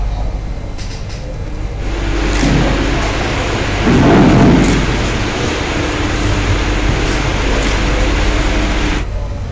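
Steady heavy rain hisses in Meerut during a spell of continuous downpour, with a deep rolling thunder rumble swelling midway before easing back into the constant wash of rain.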